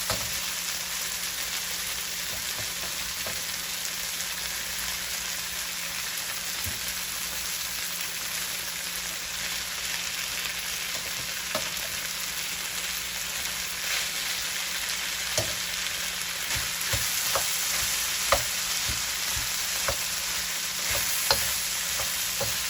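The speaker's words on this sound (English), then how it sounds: "This is frying up very nicely." Steady hiss of cooked rice frying in a pot, with occasional scraping clicks of stirring, continuous and fairly close throughout.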